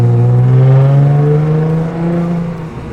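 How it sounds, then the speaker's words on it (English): A loud supercharged Audi S5 engine with a muffler delete hums close by with a high, steady supercharger whine rising over the revs, then easing off as the throttle drops. "The supercharger whine just sounds so good."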